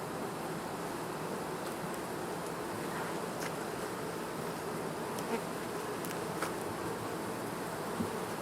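Honey bees buzz around backyard hives fitted with quilt boxes and upper entrances, a dense, steady hum with occasional louder passes of single bees close by.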